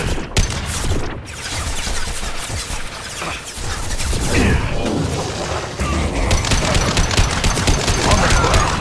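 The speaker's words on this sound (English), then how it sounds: "Firing a high-impact shot." Heavy high-impact gunfire from Harbinger in the game Harvest Horizon, a rapid loud fusillade of shots and booming impacts that pounds on without pause, with a faint voice briefly heard beneath it.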